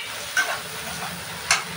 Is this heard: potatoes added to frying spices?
yes